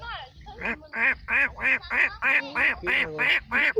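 A voice imitating a duck, giving about ten nasal quacks in a steady, evenly spaced run, close and fairly loud.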